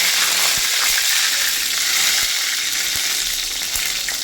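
Curry leaves and a ground spice paste sautéing in hot oil for a Tamil egg curry, a dense continuous sizzle and crackle with a few soft stirring knocks underneath, close and steady, no talking.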